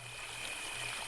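Steady, faint rushing of a video game waterfall, a continuous broadband hiss of falling water with no breaks, heard alone at a distance.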